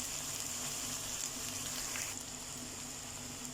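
Boiled rice tumbling into a hot pan for chicken schezwan fried rice, a steady close sizzle and hiss of frying running throughout with faint stirring scrapes and no voices.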